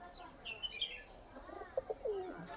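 Pigeons kept for sale give soft, faint cooing calls with a few brief chirps, spaced out over quiet background noise.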